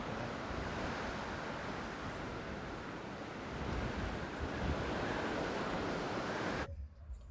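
In the Jurassic World Evolution 2 video game, a storm brings a continuous broadband roar of wind and crashing waves, steady and fairly loud throughout before cutting off abruptly near the end.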